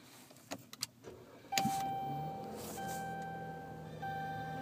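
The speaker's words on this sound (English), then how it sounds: "Push to start." A few small clicks and taps come first, then a push-button start brings a car engine to life with a sudden burst that settles into a steady, fairly quiet idle hum with a faint whine.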